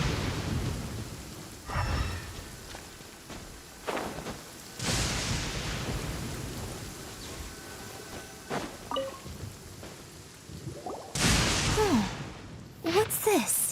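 Rain patters steadily in the video game Genshin Impact, with several rumbling thunderclaps and bursts at irregular intervals, under occasional speech.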